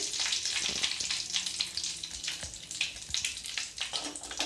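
Curry leaves crackle and sizzle in hot tempering oil for South Indian chutney, a dense, continuous spitting hiss with sharp pops, close and fairly loud.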